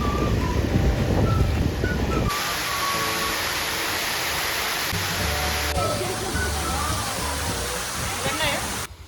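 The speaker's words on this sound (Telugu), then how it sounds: "ఇది ఇంకో వాటర్ ఫాల్ అనమాట." A monsoon waterfall at a hill station in Lonavala, a constant loud roaring wash of falling water that fills the scene, with brief faint voices and low thumps beneath it.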